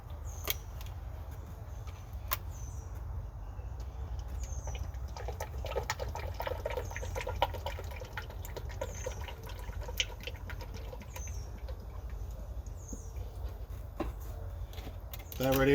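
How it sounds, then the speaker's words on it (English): Motor oil glugs quietly from a quart bottle into the engine of a John Deere Gator utility vehicle, a soft, steady pour with a few faint clinks heard close up. "So I'm gonna pour this last quart in there and see what happens."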